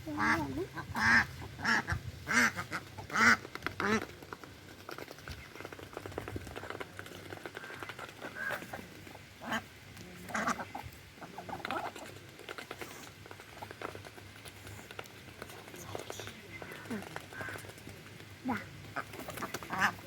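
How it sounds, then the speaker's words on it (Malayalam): Ducks are being fed outdoors, giving scattered quacks and a busy pattering of feet and bills around the feed, moderately close, with a person's voice now and then among them. "ഇത് നമ്മുടെ താറാവാണ്. അപ്പോൾ നമ്മൾ തീറ്റ കൊടുക്കാൻ പോകുന്നു."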